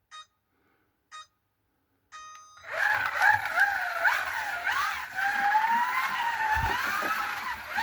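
A Scalextric C122 Mini 1275GT slot car with Swift Slots parts sets off after a few short clicks and runs continuously along the track, its motor whining steadily and rising and falling in pitch.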